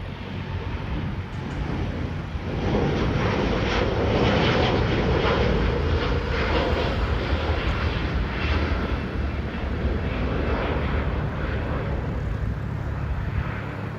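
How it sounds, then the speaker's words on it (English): A British Airways Boeing 787-8 Dreamliner takes off at Delhi Airport, its engines a loud, steady, broad roar that holds strong and continuous throughout, with no talk. "Beautiful takeoff as always of the Dreamliner"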